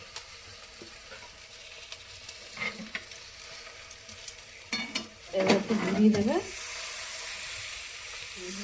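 Egg and flour batter bread fries in a wok, a steady close sizzle joined by clattering spatula scrapes against the pan, louder in the middle, while a person speaks briefly.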